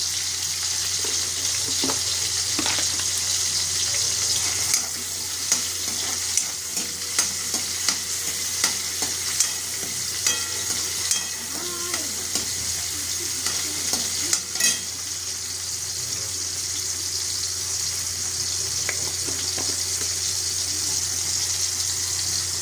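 Tomato being stir-fried in a pan for an aloo matar bhaji, a steady close frying hiss that runs throughout, with occasional spatula scrapes and soft clicks and no talking.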